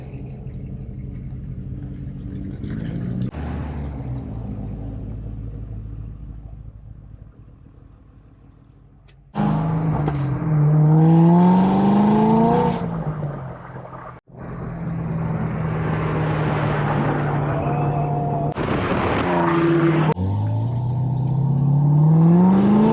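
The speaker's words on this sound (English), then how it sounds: "backed the GT out, and his cousin hopped in the passenger side and went on a little ride" A 2021 Ford GT backs out and pulls away, its engine loud and close with rising revs and gear-change sweeps, a brief dip midway before accelerating runs resume and fade as the car drives off.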